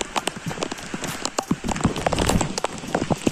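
Rain pours steadily onto an open football ground, a dense patter of drops with sharper splashes hitting nearby surfaces, heard up close with no talk.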